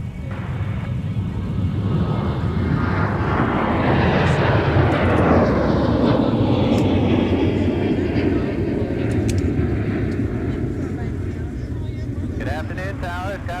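A jet airliner takes off from runway 30 left at Minneapolis–Saint Paul airport, a loud sustained roar rising and sweeping past over several seconds, with tower radio chatter.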